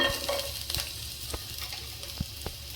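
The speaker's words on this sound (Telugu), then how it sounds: "ఆయిల్ వేడెక్కింది. ఇప్పుడు వెల్లుల్లి వేసుకుందాం" Garlic frying in about half a spoon of hot oil in a pan for vegetable soup, a soft close sizzle with scattered stirring clicks and taps.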